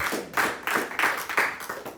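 A church congregation claps together during a Spanish-language sermon, a few loose bursts of hand claps rising and falling at moderate distance, with no talking over them.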